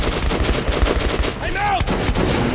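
Gunfire in the video game Metro 2033, a rapid run of loud shots with a brief metallic ring midway, up close with game ambience underneath.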